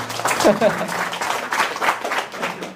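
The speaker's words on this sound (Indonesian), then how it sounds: "Aplaus." Audience applause at an Eco Racing business-partner gathering, a steady wash of many hands clapping at moderate distance, with some voices mixed in.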